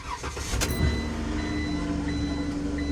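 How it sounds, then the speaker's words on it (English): A service van's engine is cranked and started cold: a brief cranking burst, then the engine catches and settles into a steady, loud, close idle that runs to the end. "cold crank coming up"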